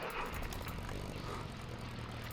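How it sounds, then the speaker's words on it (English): Aircraft engines from a group of planes flying over in the strategy game Hearts of Iron 3, a steady broadband propeller drone that holds at even loudness throughout without any talk. "That was a set of planes."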